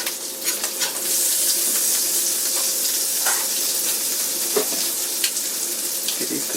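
Potatoes frying in a cast iron skillet for breakfast burritos give a steady, close, bright sizzle that holds evenly throughout, with faint crackles and a soft scrape now and then.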